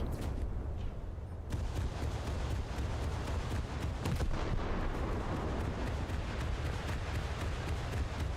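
Tank cannon fire in the War Thunder video game: several heavy booming shots burst out over a constant loud battlefield rumble, with no voices.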